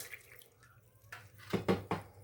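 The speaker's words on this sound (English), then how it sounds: "I'll put some water in there to weigh it down." Water poured into an empty canning jar sitting in a pot of hot water, a short run of close, splashy pours and drips in quick bursts, fairly loud, with no talking.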